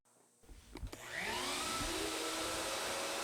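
A router on a track starts up and spins to a steady high whine while milling a groove in plywood, after a few knocks and a rising motor sweep, loud and continuous.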